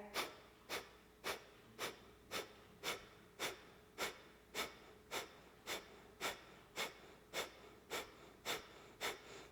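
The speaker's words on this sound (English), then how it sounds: "And breath of fire." Breath of fire yoga breathing, with steady rapid nasal exhalations, about two per second, each a short sharp puff heard up close and alone.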